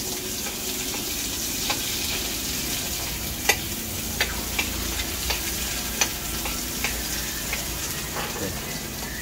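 Garlic browning in a pan gives a steady close sizzle, broken by several sharp clicks of stirring utensils.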